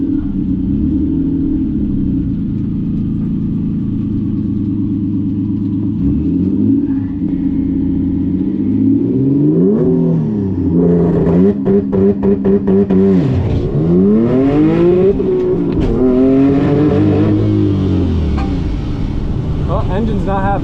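Race car engine revving hard through a launch with the clutch slipping, loud and close, rising and falling in pitch with rough bursts, ending sounding strained as if something broke.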